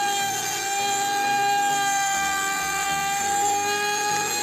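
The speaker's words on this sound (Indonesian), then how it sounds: "setelah itu nanti kita rapikan bagian tepinya menggunakan mesin trimmer" A handheld trimmer machine trims the edges of wood-pattern HPL laminate on a TV backdrop cabinet, its motor giving a steady, close, high-pitched whine with layered tones and no pauses.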